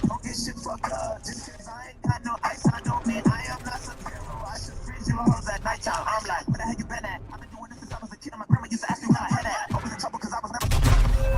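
Warzone video game gunfire, scattered sharp shots and short bursts mixed with game effects and a voice talking over the action, fairly loud with a heavy thump near the end.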